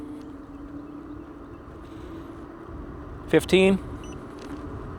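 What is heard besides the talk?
KOWOEE E8 Pro electric scooter accelerating at full throttle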